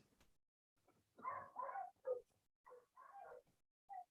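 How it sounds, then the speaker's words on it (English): Dogs barking and yipping in a home, several short, faint barks in quick uneven clusters over a few seconds, heard from a distance with no talk over them. "My dogs are barking like crazy."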